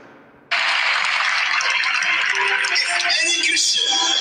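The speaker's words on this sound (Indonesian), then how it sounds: "Wow, tepuk tangan mereka." Loud, sustained audience applause from a played recording, bursting in abruptly after a brief quieter stretch and continuing as a dense wash of clapping until the end.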